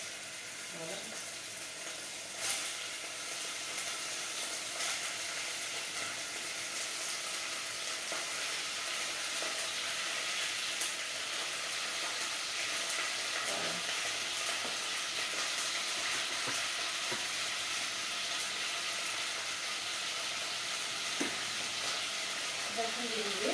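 Onions frying in a pan for a cheese tajine give a steady, close sizzle throughout, with occasional light stirring clicks and no talk.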